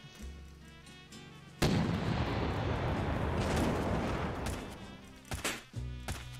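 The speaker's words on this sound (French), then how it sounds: "Là on a le boulet de canon." A cannonball fires in the video game Alt F4: after soft game tones, a sudden loud boom bursts out and rolls into a long, rumbling roar that fades over several seconds, followed by a few lighter thuds.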